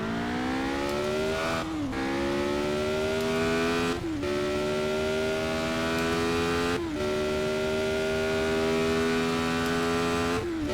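A race car engine in the Project Cars racing game screams continuously at high revs, pitch climbing steadily then dropping sharply at several paddle-shifted gear changes as the car drifts, loud and close with no voices.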